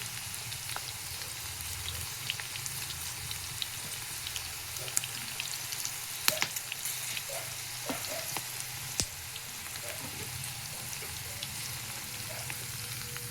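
Okra (bhindi) fries in hot oil with a steady, dense sizzle broken by sharp spluttering pops, close and even throughout with no talking.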